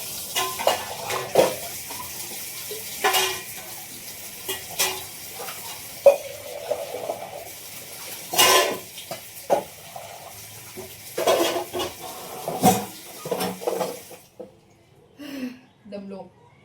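Dishes being scrubbed and rinsed under a running tap, with intermittent gushes of water and clinks of utensils in bursts, fairly close, mixed with occasional talk before the water stops near the end.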